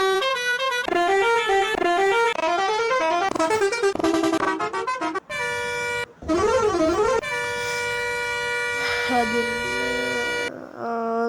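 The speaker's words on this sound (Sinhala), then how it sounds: "හෝන් එකක් හදමු" Tuned multi-tone bus horn playing a continuous melodic run of rising and falling notes, loud and close, with brief breaks and shifting tunes, on a bus fitted with a custom horn.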